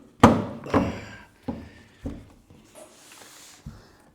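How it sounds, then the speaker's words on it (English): A Rossi R92 lever-action rifle in .44 Magnum, 1776 edition, thunks loudly against its display disc as it is handled: about six close, heavy thuds at irregular intervals, with quieter rustling between. "It's just this disc is kind of loud"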